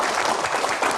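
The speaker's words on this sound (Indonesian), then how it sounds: "tepuk tangan" An audience at a Q&A event applauds, a dense, steady wash of many hands clapping that fills the whole moment without a break.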